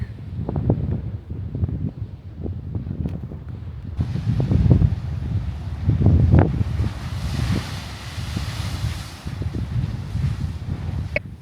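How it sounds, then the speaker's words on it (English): Strong wind blowing at a Pacific coast beach in Baja near a lighthouse campsite, buffeting the microphone with heavy low rumble and gusts, surf and a broad hiss rising midway, with no talking. "Just a little bit windy."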